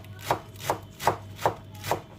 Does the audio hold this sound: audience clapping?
no